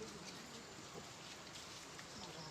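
Steady rain falls over a flooded village area, a dense, even hiss of drops hitting water and surfaces that stays constant throughout, with no clear talk over it.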